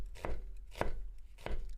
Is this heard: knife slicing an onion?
yes